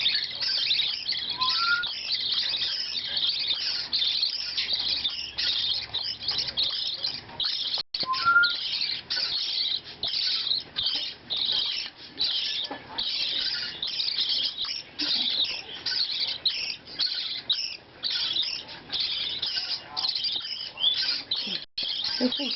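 Young budgie chicks chirp constantly while being handfed, a dense, high, rapid cheeping close by that continues without pause, with a person speaking faintly in the background.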